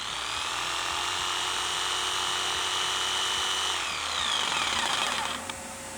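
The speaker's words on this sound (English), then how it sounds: "The dust collector turned on when the current went above 2 amps." A jigsaw runs with a steady high whine as a workshop dust collector switches on near the end, the tone shifting and a fan hum taking over.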